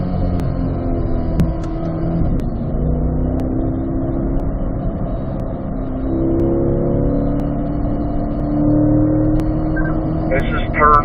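A Corvette engine drones steadily at speed on a race track, heard from inside the car with a continuous, loud engine and road roar and talking over it.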